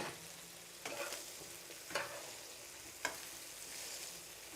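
Cauliflower frying in hot oil with spices gives a steady sizzle, broken by three stirring scrapes spaced about a second apart, heard up close with no talking.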